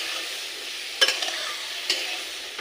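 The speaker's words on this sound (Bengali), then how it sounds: "দেখতে পারো এবারে এটাকে আমি নাড়ায় দেবো।" Food fries in a pan with turmeric while it is stirred: a steady soft sizzle runs throughout, broken by two sharp scraping strokes of the utensil.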